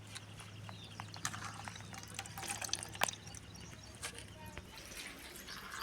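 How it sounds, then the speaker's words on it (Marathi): Water splashes and drips irregularly as leafy wild greens are rinsed, with a steady low hum running underneath throughout. "तर हे असे आपल्याला चांगले पाण्याने धुवून घ्यावे लागते"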